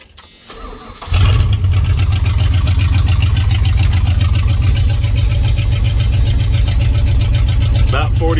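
A 1986 Ram truck engine, fitted with a new carburetor and intake, cranks briefly and fires, then settles into a loud, steady, rumbling idle that holds for several seconds, close to the microphone.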